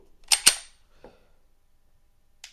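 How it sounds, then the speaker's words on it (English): Dry-fire trigger pull on a handgun fitted with a Gideon Optics Omega sight: two sharp, close clicks in quick succession, a faint softer tick about half a second later, then one more light click after a pause, with no talk. "I can show you how the trigger pull on this."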